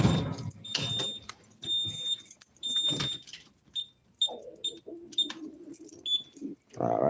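A home alarm system sounds in short repeated high electronic beeps in irregular bursts, with someone talking nearby and occasional clattering between the tones.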